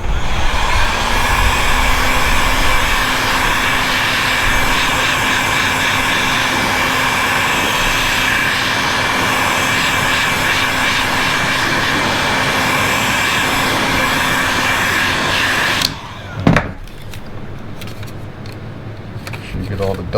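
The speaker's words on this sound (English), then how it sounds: "Now I'm going to blow all the dust off and everything with the heat gun" A heat gun blows dust off the radio screen area of a Subaru WRX dashboard: a loud, steady blowing roar for about sixteen seconds that cuts off abruptly, followed by quieter handling noises.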